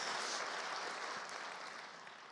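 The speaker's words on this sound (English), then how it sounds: "You can applaud for love." An audience at a storytelling event in Des Moines applauds in a dense, sustained wash of clapping that stays even and then slowly tapers off, heard from within the room.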